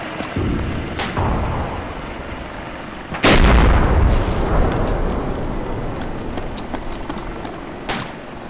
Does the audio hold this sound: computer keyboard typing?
no